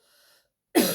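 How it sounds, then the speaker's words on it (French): A single sharp cough bursts out after a quiet moment, loud and close. "je vais tousser"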